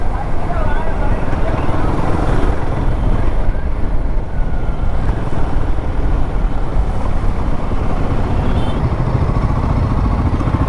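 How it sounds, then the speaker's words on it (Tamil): Wind noise buffeting the helmet while riding a Royal Enfield Himalayan 450 motorcycle with the visor open after rain, a loud, constant low roar with engine drone beneath it throughout. "கொஞ்சம் சவுண்டு விண்டு நாய்ஸ் கேட்டுச்சுன்னா அட்ஜஸ்ட் பண்ணிக்கோங்க."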